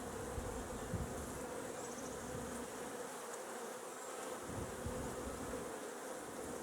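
A dense, steady buzz of many Italian honeybees swarms around an opened hive during an inspection, close and continuous throughout with no speech.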